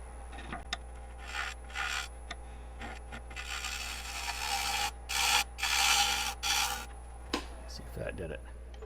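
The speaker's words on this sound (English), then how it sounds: "I want to get this with the bowl gouge." A bowl gouge cuts into spinning maple crotch wood on a lathe, a rough scraping rasp in repeated bursts of varying strength over a steady low motor hum, close and fairly loud.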